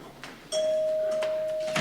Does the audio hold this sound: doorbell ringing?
yes